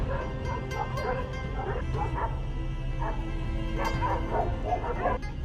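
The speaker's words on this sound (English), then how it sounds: "the dogs surround the leopard, maintain a safe distance, and keep up such a relentless, deafening barking" Several dogs barking, yipping and whimpering in the high mountains, a ragged series of repeated barks at moderate distance over a low rumbling background.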